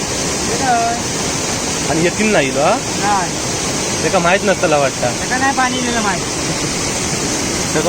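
Heavy, constant rushing water at a dam after a downpour, a broad roar that fills the whole scene while people talk loudly over it.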